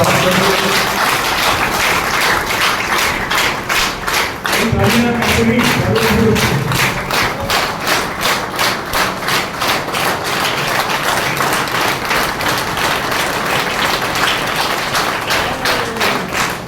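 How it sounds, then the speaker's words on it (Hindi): A crowd at a public event claps in strong applause to welcome a speaker, a dense run of rhythmic clapping lasting the whole stretch, with a brief swell of voices near the start. "एक बार जोरदार तालियों से उनका स्वागत करें"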